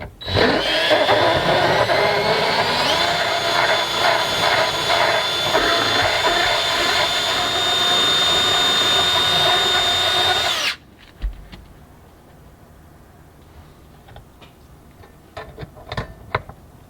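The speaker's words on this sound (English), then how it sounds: "You guys can see the amount of material that comes off of the grinder tool" A handheld grinder tool whines loudly and steadily up close inside a camper van for about ten seconds, then cuts off abruptly, leaving quiet room noise with scattered small knocks.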